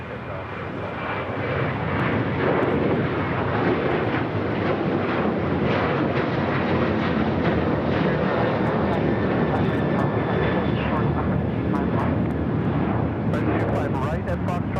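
An airplane takes off from a runway at LAX, its engines roaring loud and continuous throughout, swelling early and holding a sustained broadband rumble.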